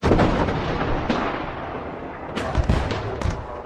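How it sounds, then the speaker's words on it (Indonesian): Booming gunshot sound effects echo in a reverberant space, a few heavy blasts followed by a quick cluster of sharper cracks. "Suara tembakan yang menggema membuat jantung berdegup kencang"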